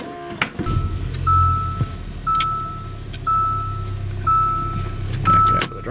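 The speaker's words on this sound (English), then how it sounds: "back out of the driveway." A 2017 Hyundai Santa Fe Sport reverses out of a driveway. Its engine idles low beneath a steady series of regularly spaced reversing beeps, about one per second, with some faint background noise.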